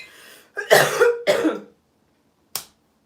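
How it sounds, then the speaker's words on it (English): Two sharp, loud coughs in quick succession up close, then a short pause and a brief final cough or throat noise, with no talking. "I coughed"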